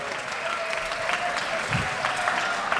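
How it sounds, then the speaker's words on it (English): A crowd at a jazz festival applauds in a steady, continuous wash of clapping that fills the clip at a moderate level, with no voices standing out. "Can I get a round of applause?"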